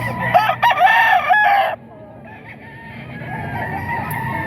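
An eight-month-old SBR bloodline rooster crows loudly and close by in one strained burst, then a fainter crow follows in the distance over a quiet background.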